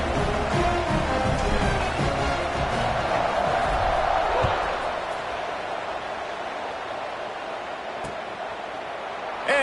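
A large crowd at a college football stadium roars steadily during a kickoff between JMU and UCLA, a dense wash of cheering that eases slightly midway through.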